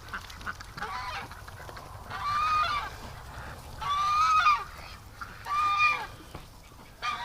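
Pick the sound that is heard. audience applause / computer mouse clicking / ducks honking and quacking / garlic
ducks honking and quacking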